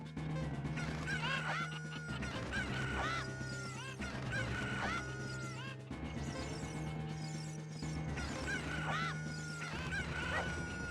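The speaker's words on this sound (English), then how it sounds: "Okay, man, it's just chickens." Video game chickens cluck in repeated, looping bursts over a low droning background, fairly quiet and with no talk.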